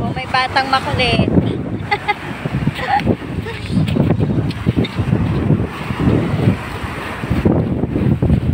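Steady roar of strong surf and wind on a beach fills the scene, broadband and constant, with people talking in Filipino over it throughout.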